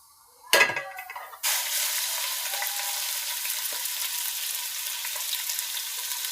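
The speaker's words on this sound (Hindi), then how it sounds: "और अब मैं थोड़ा सा इसको गर्म करके चिकन डालूंगी।" Cubed chicken dropped into hot oil in a pan, a sharp clatter followed by a sudden loud, steady frying sizzle that holds to the end.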